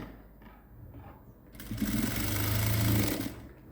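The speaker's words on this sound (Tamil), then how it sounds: "ரெண்டு தையல் போட்டுக்கோங்க சோல்டருக்கு" A sewing machine stitches the shoulder seam of a gown made from an old silk saree. A quiet start gives way to a loud, steady mechanical whir running close by for a couple of seconds before slowing.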